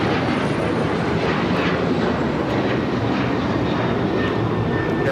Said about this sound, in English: This is United Airlines 2667 taking off to Washington Dulles on the 737-900ER